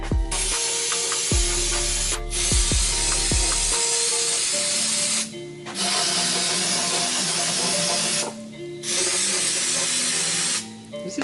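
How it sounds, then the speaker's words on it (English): Several long hissing bursts of brake cleaner spray from an aerosol can, each lasting a second or two with short pauses between, close and loud, after a few clanking knocks at the start. "spray this out with brake clean"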